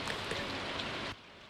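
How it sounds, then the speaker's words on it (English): Soft, steady hiss of rain pattering down in Stardew Valley, a fairly quiet even wash of drops that cuts off abruptly near the end. "There's a rain day"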